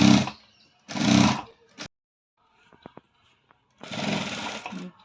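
A sewing machine stitches a blouse seam in bursts, with three loud close runs of rapid stitching separated by pauses and a few light clicks in between.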